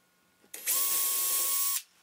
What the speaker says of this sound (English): And then I go back through and drill pilot holes in all of those locations.